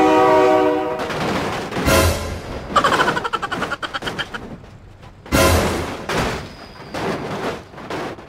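A train horn blares and a train rumbles past in the driving simulator game BeamNG Drive, with loud blasts and bursts of clattering that rise and fall across the stretch.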